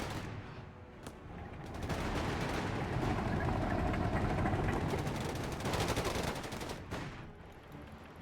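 Sustained machine-gun fire from a pintle-mounted gun in Company of Heroes 3, a dense rattling stream of shots that holds steady for several seconds amid battlefield noise, then tapers off.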